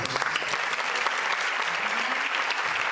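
A crowd at a charity gala in Albalat dels Sorells, Valencia, claps loudly and steadily, a thick continuous patter of many hands throughout.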